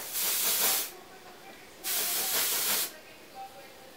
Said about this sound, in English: I'm also going to put a little dry shampoo in my hair.